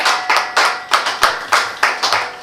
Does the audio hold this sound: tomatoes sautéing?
no